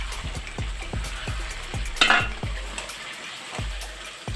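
Chicken pieces fry in a pan for butter chicken masala, a continuous sizzle broken by regular scraping strokes of a stirring spoon, with one brief louder hiss of spitting oil midway.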